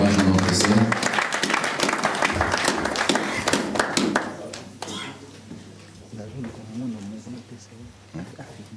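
A church congregation breaks into brisk applause, dense clapping that gradually thins out and fades while a voice speaks over it and continues afterward.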